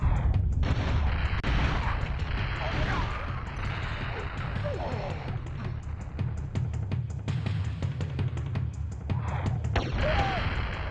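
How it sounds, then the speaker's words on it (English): Hand grenades bursting in a cave area of the game Turok: Dinosaur Hunter, a dense run of loud booms and crashes that keep overlapping for the full stretch. "Snipe you with hand grenades, apparently."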